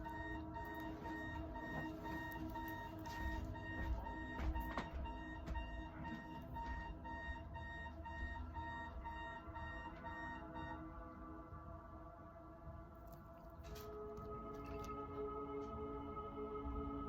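An alarm clock rings steadily and without pause, a dense, tonal electronic chime that fills the whole stretch, then shifts partway through to a different pattern with some clatter.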